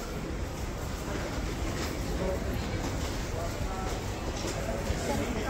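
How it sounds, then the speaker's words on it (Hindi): Interior of a Delhi Airport Express Line metro train in motion, a steady rumbling ride noise with faint rhythmic clicks, continuous throughout at moderate level. "एयरपोर्ट एक्सप्रेस लाइन के अंदर है इस वक्त हम"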